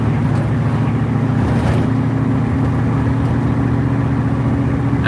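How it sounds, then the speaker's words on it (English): A Ford Mustang engine idles close by, a loud, steady low rumble that holds an even pitch throughout, with no talk over it. "Bring the idle speed up just a teeny bit and it should work just fine."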